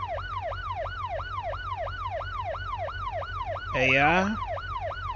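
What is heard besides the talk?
police car siren in video game BeamNG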